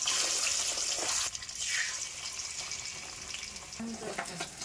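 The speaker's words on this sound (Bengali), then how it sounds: "মাছগুলোকে লাল লাল করে ভেজে নামিয়ে নিচ্ছি।" Pabda fish rubbed with salt, turmeric and mustard oil fry in hot mustard oil, giving a loud hissing sizzle that drops abruptly after a second into a softer, steady crackle with a few light clatters near the end.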